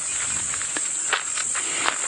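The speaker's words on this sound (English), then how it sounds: "Those are the cicadas. I don't think there's any insect that can make a sound louder." Cicadas on a sunrise safari drive make a loud, steady, high-pitched shrill drone that fills the air continuously, with faint soft rustles and clicks beneath it.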